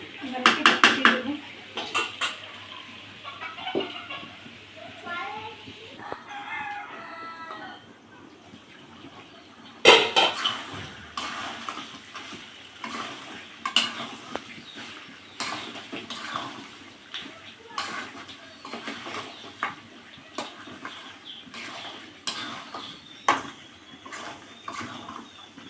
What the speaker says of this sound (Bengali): আলুগুলো দিয়ে আর একটু নেড়ে চেড়ে ঢাকা দিয়ে তারপর জল দেবো।